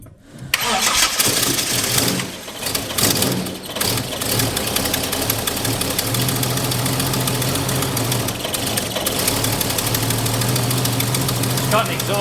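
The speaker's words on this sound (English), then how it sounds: "It's got an exhaust leak." A car engine cranks, catches and keeps running roughly with an exhaust leak, a loud ticking, puffing rumble that persists steadily, with people talking nearby.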